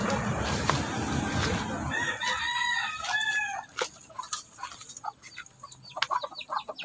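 Native chickens crow and cluck nearby, with a rooster's drawn-out crow over a noisy start, followed by scattered short clucks and pecking sounds outdoors.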